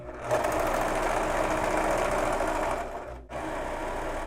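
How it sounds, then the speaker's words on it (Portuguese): A Singer Ultralock domestic overlock machine serges a seam, running in a loud, close, steady whir that breaks off briefly near the end and then starts again, with no talking. "Aqui, gente, eu estou utilizando o Ultralock da Singer, tá? Que é seu overlock doméstico"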